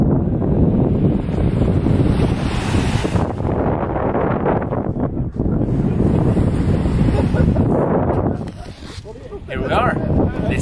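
Ocean waves wash onto a beach in Okinawa, Japan, under heavy, continuous wind buffeting close to the microphone, a loud, roaring wash with brief dips.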